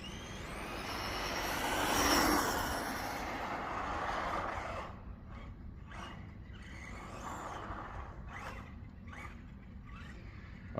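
A cheap used RC car makes a fast pass, its buzzing motor swelling loud as it approaches and then fading off, followed by faint intermittent whirring bursts in the distance.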